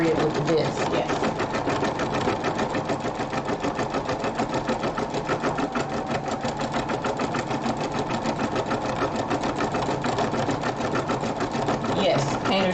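Sewing machine with a top stitch needle running steadily while stitching an embroidered rope bowl, a fast even rhythmic whir close by throughout, with a voice talking over it.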